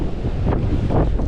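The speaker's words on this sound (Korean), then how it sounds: "우와, 바람 소리가." Strong gusting wind on a snowy Seonjaryeong mountain ridge, a loud, continuous rumbling roar with swelling gusts that batter the microphone, heard close and alone with no voices.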